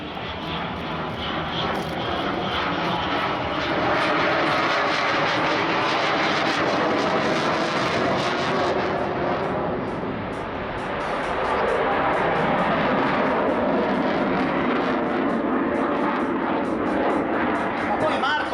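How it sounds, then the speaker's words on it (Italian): An M-346 Master jet trainer at an air show roars continuously with a broad engine rumble that swells and fades as it passes, while an announcer talks over it. "Torna a chiedere potenza ai motori spingendo il thrust lever dalla posizione idle 5 cm in avanti."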